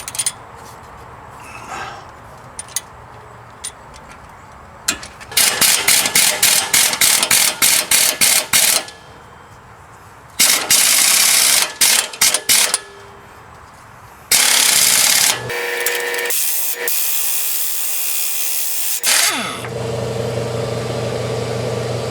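Ratchet wrench with a 17 mm socket loosening a strut assembly bolt on a 2013 Honda Pilot, heard as several loud bursts of rapid mechanical clicking separated by pauses, close and with no talking.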